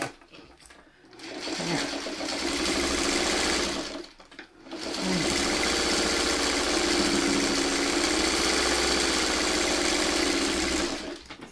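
A sewing machine stitches a quilt block seam for quarter square triangles, a loud, close, continuous motor hum with rapid needle chatter, pausing briefly before running on steadily.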